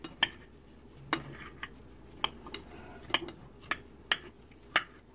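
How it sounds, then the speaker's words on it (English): A knife slices and dices cabbage in a bowl, making a series of about ten sharp, clicking taps at an uneven, steady pace, close and fairly crisp against a quiet background. "Slicing and dicing."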